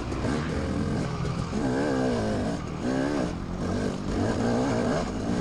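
Loud four-stroke dirt bike engine revving close behind a rider during a hare scramble race, steady roar with rising and falling pitch sweeps as the throttle opens and closes, with another engine blended in.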